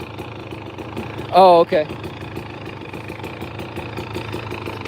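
A two-stroke dirt bike engine idles with a steady low burble in the background, while a voice speaks briefly over it near the middle.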